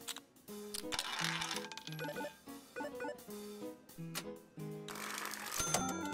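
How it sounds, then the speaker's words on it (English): Quick crisp shuffling of a deck of cards in the game Bingle Bingle, a series of short riffling clicks and chimes at moderate volume, with no talk. "Shuffle again."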